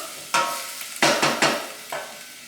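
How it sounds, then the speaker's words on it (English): A whole jalapeno sautés in a pot for black bean soup, heard as four quick bursts of stirring and sizzling, close by, with quiet gaps between them. "I actually put a whole jalapeno in there. And so we're just going to get that sauteing."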